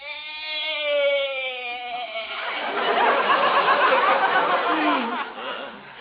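A goat bleats in a wavering, drawn-out call, followed by noisy, rough chatter-like sounds under a muffled, old-sounding recording from a 1940s-era radio comedy show.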